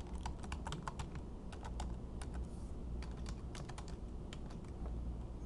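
Continuous quick typing on a computer keyboard as a Skype name is entered, steady irregular key clicks up close and fairly quiet, with no voices.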